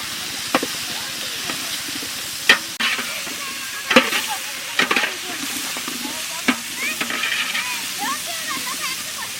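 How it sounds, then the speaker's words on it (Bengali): Green jackfruit pieces fry in hot oil in a village kitchen, giving a steady close sizzle broken by sharp clinks and scrapes of a spatula stirring against the pan. "তেলটা গরম হয়ে গেছে, এবার এঁচড়টা দিয়ে দিচ্ছি।"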